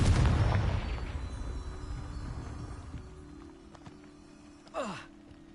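A Confringo blasting spell goes off in a Hogwarts video game: a deep, booming explosion up close at the start that rumbles and fades, followed later by a brief whooshing swoosh.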